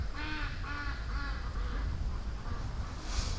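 Ducks in a pen letting out a run of several nasal quacks in quick succession, fairly close, over a constant outdoor noise bed, the calls fading after the first second or so.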